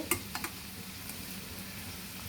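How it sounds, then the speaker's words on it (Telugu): Onions frying in oil in a pan for a chicken egg fry curry, a steady low sizzle with a few brief stirring clinks, close and fairly quiet. "ఇలా వేసి వేయించాలండి"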